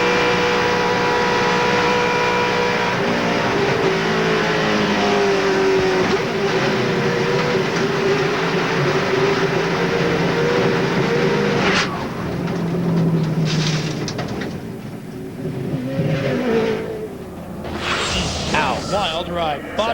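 Race cars at Daytona during a 2005 ARCA Series race, a loud, sustained, droning engine roar that shifts in pitch as the cars pass, then thins out into quieter, uneven noise.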